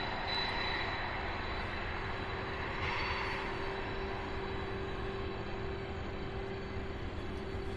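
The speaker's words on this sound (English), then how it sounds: "Then we have another 767 UPS 1306. That's the one that's taxiing now in front of me" A UPS Boeing 767 jet taxiing at night, a steady broad engine roar with a constant whine, even and sustained from nearby without clear rise or fall, no voices.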